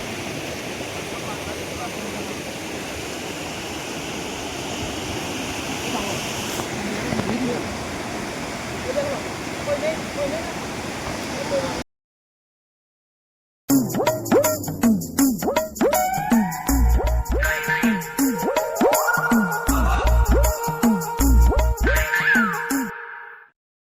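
River water rushes steadily at a picnic spot, a loud continuous wash for about twelve seconds, then breaks off into a short silence and loud music.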